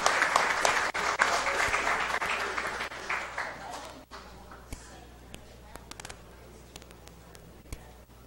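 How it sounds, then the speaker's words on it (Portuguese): Applause breaks out during a city council session, a dense burst of clapping for the first four seconds that then thins to scattered claps and quiet room noise, with speech 0.76 suggesting voices nearby. "eu queria também pedir uma salva de palmas para ele"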